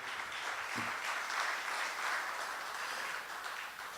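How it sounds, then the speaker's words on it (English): Audience applause for the president of the Greater Sando Area Chamber of Commerce at a business event, a steady, dense wash of clapping held at moderate level for about four seconds without talk. "let's, if we can give the President a round of applause again"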